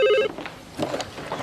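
A telephone at the Mount Thomas police station gives one short, loud burst of ringing right at the start, then fades into quieter room noise.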